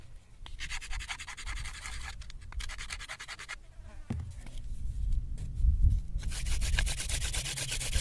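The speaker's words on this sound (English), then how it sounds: "First, I just sand away the charred end." Sandpaper rubbing the charred end of a wooden fire-drill spindle, likely mule fat, in bursts of close, dry scratching strokes with short pauses between them; no talking.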